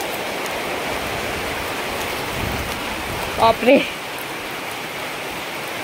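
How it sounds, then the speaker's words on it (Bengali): Rain falls steadily on a kitchen garden with pumpkin plants, a continuous dense hiss of drops close by, with a brief spoken exclamation partway through. "দেখো বৃষ্টি আসছে"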